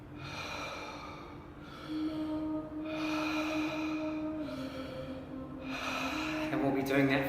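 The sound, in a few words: cyclic breathing in and out through the mouth, breathwork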